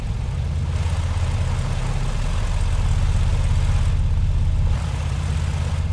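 Twin engines of a BN-2 Islander in Microsoft Flight Simulator drone steadily with an open cockpit window, a loud, continuous low propeller hum with a slight dip in level near the end.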